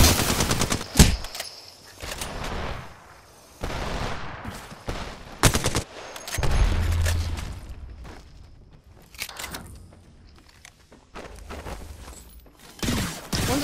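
Gunfire in the Apex Legends video game: loud, close bursts of rapid automatic fire and single shots, broken by short gaps, with footsteps and mechanical clicks between volleys.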